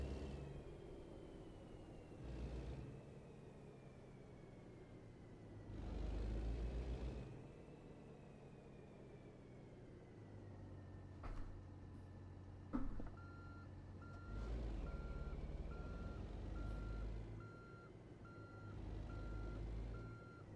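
A logging truck in American Truck Simulator reverses to park beside trailers, steady backup beeps repeating over a low diesel engine rumble that swells and fades, with a brief hiss of air brakes.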